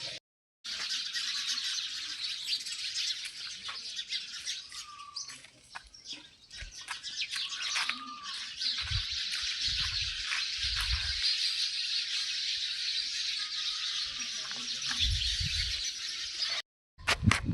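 Sparrows chatter in a dense, continuous chorus in a large old banyan tree at dusk, fairly faint and distant, with occasional low thumps and rustles beneath the chirping; no voices.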